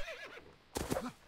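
Horse whinny from the video game Mount and Blade: Warband, a short loud neigh with rising and falling pitch that breaks off, followed by a brief burst of clatter and movement, no talking.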